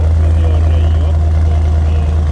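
Loud, continuous exhaust of a Chevrolet Camaro SS, a deep steady low-frequency rumble that fills the whole stretch and swamps any voice.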